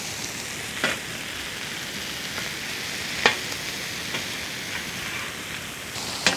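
Onion and green chilies fry in a pan with a steady, even sizzle that sounds like light rain, broken by a few faint taps of a spoon, quiet and without talk.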